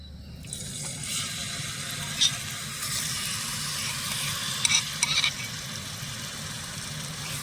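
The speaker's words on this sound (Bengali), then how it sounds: "আমি চিকেনের টুকরোগুলো ভেজে নেব" Chicken pieces frying in hot oil in a wok give off a steady, even sizzling hiss, with a low hum underneath and a few brief crackles.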